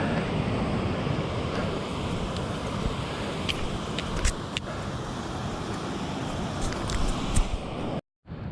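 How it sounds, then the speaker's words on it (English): Steady rushing water from rapids and waterfalls along a mountain hiking trail roars close by without pause, a broad hiss with a few faint clicks on top. "A few rapids and waterfalls right there as we continue on up the trail."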